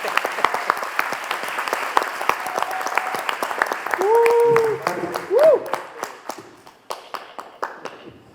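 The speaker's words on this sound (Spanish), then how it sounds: "y yo quiero un gran aplauso para este gran…" Audience applause at a cultural panel event, a dense steady clapping that runs several seconds, peaks, then thins out and fades toward the end.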